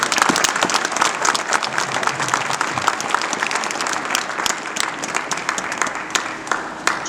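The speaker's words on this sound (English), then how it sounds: "So a round of applause for Theodore." An audience applauds poet Theodore at the 1916 GPO Garrison Centenary Commemoration: dense, sustained clapping from a large crowd, steady and loud throughout.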